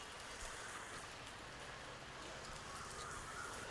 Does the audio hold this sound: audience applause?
no